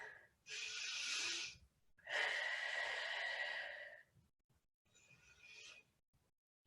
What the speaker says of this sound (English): let's take 5 deep breaths